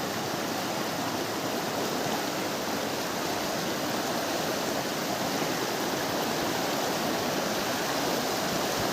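A fast, clear river rushes over big rocks beside a wooden footbridge in Arunachal Pradesh, a steady, dense roar that stays loud and unbroken throughout.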